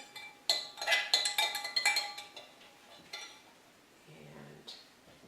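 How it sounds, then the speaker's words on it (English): A spoon clinks and scrapes against a bowl while stirring salad dressing, a quick run of bright metallic taps followed by quieter swirling and a couple of softer knocks, close by with no talking. "Just stirring around my dressing."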